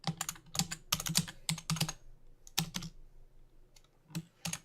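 A computer keyboard is typed on in quick irregular bursts of crisp key clicks, close and clear, with short pauses between groups.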